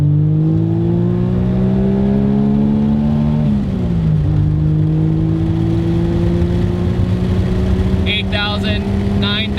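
Modified Suzuki Cappuccino engine revving hard under acceleration, with a rising drone that dips at a gear change and then climbs again. A brief burst of talk can be heard near the end.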